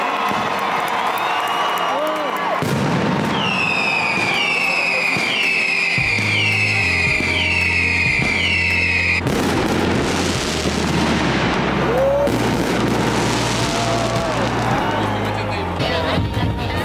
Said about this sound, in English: this is accompanied by an impressive fireworks spectacle, as it could not be otherwise here in Valencia.